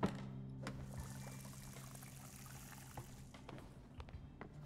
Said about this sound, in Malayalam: ഞാൻ പോയിട്ട് വെള്ളം നിറക്കട്ടെ ഒന്നും കൂടി.